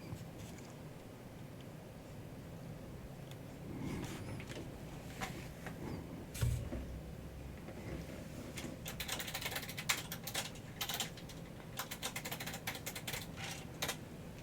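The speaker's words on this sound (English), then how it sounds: "Sorry for the massively loud keyboard." Loud clattering of computer keyboard keys, dense irregular bursts of typing that grow busier toward the end, close to the microphone with no speech.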